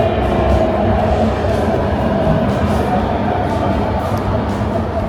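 Interior of a metro train in China running between closely spaced stations: a steady, loud rumble and rattle that holds constant throughout, with no voices.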